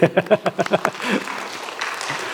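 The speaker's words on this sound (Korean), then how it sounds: "박수 한번 부탁드립니다" A congregation at a Korean Baptist church's Sunday worship service breaks into applause; a voice speaks briefly first, then a soft, steady patter of clapping fills the room and carries on to the end.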